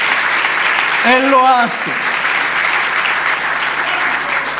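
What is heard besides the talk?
congregation applauding for the Lord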